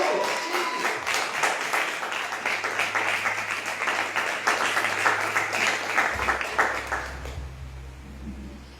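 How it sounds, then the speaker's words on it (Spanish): Steady rhythmic applause rises from a church congregation, many hands clapping together for several seconds over a low sustained keyboard tone, then stopping abruptly near the end. "Dale un fuerte aplauso a Jesús."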